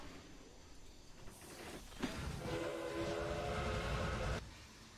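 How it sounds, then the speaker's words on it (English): A train in the Railway Empire video game rumbles past, building into a steady rolling roar with a sustained whistle-like tone before cutting off abruptly, with no talking. "just wait for that train to get out of the way."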